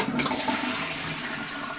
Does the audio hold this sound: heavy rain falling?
no